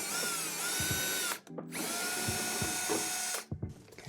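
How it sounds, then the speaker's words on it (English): A 90-degree drill whines in two long, loud bursts while drilling out a small part on an MKIV Supra, with a short pause between them and a brief tail at the end. "I've got a 90-degree drill, and I think I'm going to try that."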